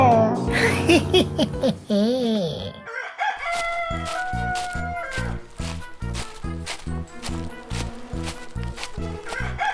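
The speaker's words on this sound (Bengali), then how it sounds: "এই গাছের ডালে বসেই মোরগটি নিজের মনের আনন্দে ডাকছে" A rooster crows loudly and close by, its call rising and falling, with a steady rhythmic music track playing underneath.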